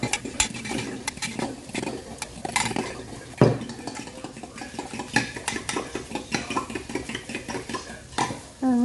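Eight eggs beaten in a bowl for a potato frittata, a quick run of close clinking whisk or fork strikes against the bowl, steady and rhythmic with a few louder knocks.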